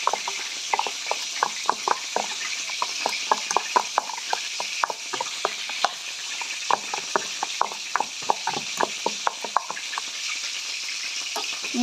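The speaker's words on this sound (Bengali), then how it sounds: "একটু লবণ, একটু হলুদ গুঁড়ো মিশিয়ে নেব।" Masoor lentil paste being mixed by hand or spoon with salt and turmeric powder, a steady run of soft wet clicks and squelches repeating quickly and close up, with no talking.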